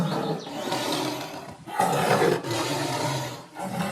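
A tiger roars loudly and close in a long, rough, sustained growl that swells and breaks into a second roar, heard alone without talk.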